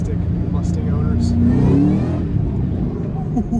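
A 500HP Terminator SVT Cobra Mustang accelerates hard, its engine note rising loud and close through a gear pull, with a voice talking over the run.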